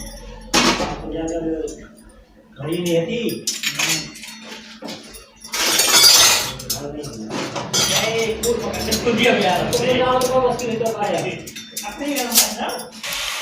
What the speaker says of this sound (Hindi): बर्तन साफ हो गए हैं, अब मैं सेट कर लेती हूँ।